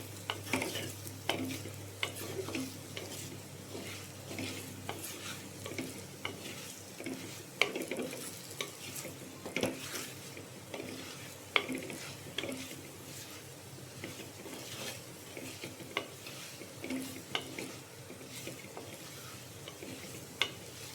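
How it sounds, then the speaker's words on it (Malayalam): Spice powders roasting in a pan for a Kerala fish curry, stirred steadily with a spoon: a soft, continuous sizzle broken by regular light scrapes and clinks against the pan, close and fairly quiet. "ഒന്ന് ഇളക്കി ഈ പൊടികളൊക്കെ ഒന്ന് മൂത്ത് വന്നു കഴിഞ്ഞാൽ അതിൻ്റെ ഒരു മണം വരും."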